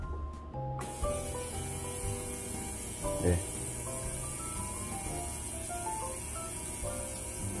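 A small ultrasonic cleaner runs in water with detachable tips partly submerged, giving a steady, close, broadband hiss that begins abruptly and holds evenly, with a brief louder rustle midway; a person briefly speaks.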